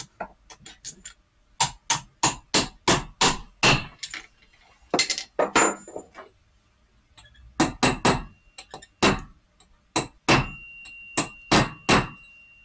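A hammer strikes a socket on a Mazda/Rotunda transmission part during a rebuild, giving loud ringing metallic clangs in quick irregular bursts with short pauses between groups.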